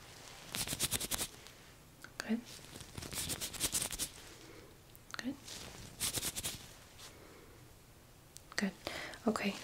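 Close, soft rustling and brushing of a glove in short bursts with pauses between, some sharper scratchy strokes, no speech.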